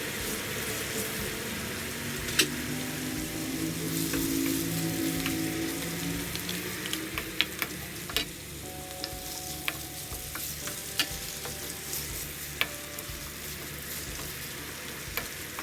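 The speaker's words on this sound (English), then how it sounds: "Once everything in the pan is nicely fried and there's" Dry red chilies fry in a pan with a steady close sizzle and crackle, broken by occasional stirring scrapes and small pops over about fifteen seconds.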